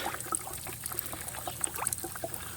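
Water gurgles and trickles as it is reverse-flushed through the heater core of a 2000 Ford Expedition, with a steady bubbly, splashing flow close by.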